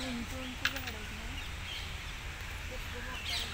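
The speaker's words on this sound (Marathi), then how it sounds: "हां, पक्ष्यांचा आवाज येतोय ना." Birds call in a large garden among tall trees, a few faint chirps and short call notes over a steady outdoor hum, distant and sparse.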